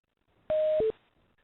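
Two quick telephone keypad tones for star then six pressed to unmute on a conference call, loud and close against near silence.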